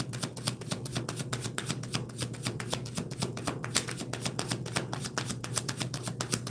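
An oracle card deck is shuffled by hand, a steady rapid riffle of flicking cards close up with no talking.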